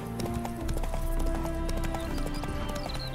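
Roach the horse in The Witcher 3 clops along with steady hoofbeats and a brief whinny, layered under in-game ambient sound and music.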